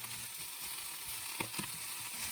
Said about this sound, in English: mix well to make sure all cabbage pieces touching the hot surface of pan